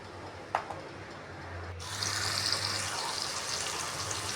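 Water pours steadily into basmati rice for mutton biryani, beginning after a brief clink and continuing as a close, even gush.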